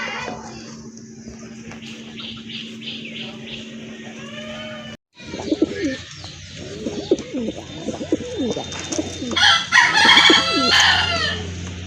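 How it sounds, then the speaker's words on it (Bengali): Pigeons in a loft where large Rajgolla and fancy breeds are kept coo in soft repeated calls, joined partway through by louder bird calls and chatter nearby, with a brief silent gap before the calls resume. "তো আরেকটা পেয়ার কবুতর চলে আসছে এখানে, দেখেন আপনারা খুবই সুন্দর এক জোড়া কবুতর"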